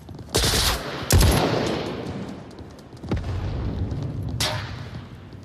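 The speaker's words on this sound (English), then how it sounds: "Watch it. Gunshots." Video game gunfire inside a tanker ship: a few sharp, loud bursts of shots, one near the start, a louder crack just after, another around three seconds and a final one near the end, over steady rumbling background noise.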